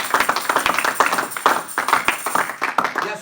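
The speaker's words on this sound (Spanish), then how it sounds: "¿Cuánto le damos un fuerte aplauso al Señor?" Congregation clapping for the Lord during a Spanish-language church sermon, a dense run of quick claps lasting the whole moment with a few sharper individual hits standing out.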